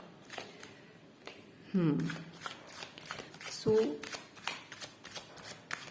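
Tarot reading cards being shuffled by hand, a soft papery riffle and slide of the deck continuing alongside a person speaking.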